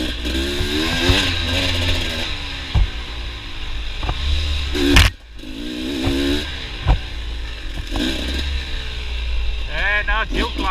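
A motorbike ridden along an overgrown single-track trail, its engine droning and revving throughout with rising and falling pitch, a sharp clunk midway, and speech over it.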